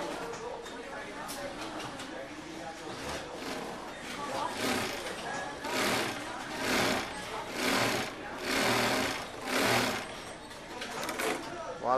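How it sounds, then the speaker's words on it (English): An industrial sewing machine stitches the bill onto a newsboy or ivy cap in a cap workshop, running in rapid bursts that swell and pause, loud and close, with a faint voice underneath. "we go from the making of the bill to the sewing of the bill onto the cap"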